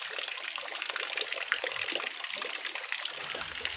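Water poured or running steadily at close range for drinking, a continuous splashing wash with no talk over it.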